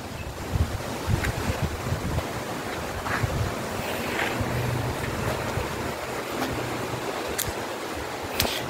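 Strong, very cold wind roars steadily outdoors on the Ebor Falls walking track, buffeting the microphone with a continuous low rumble and gusty noise.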